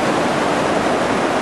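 Steady rushing river water flowing continuously, a broad even wash of sound with no breaks, close and fairly loud.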